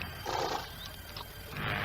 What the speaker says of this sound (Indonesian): Dan ada lagi beberapa ekor kuda.